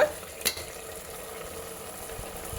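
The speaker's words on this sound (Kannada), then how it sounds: "ನೋಡಿ, ಮಸಾಲೆ ಎಲ್ಲ ಚೆನ್ನಾಗಿ ಫ್ರೈ ಆಗಿದೆ." Masala fries in a pan for chicken biryani, giving a steady close sizzle and crackle with a light stirring scrape near the start and no talking.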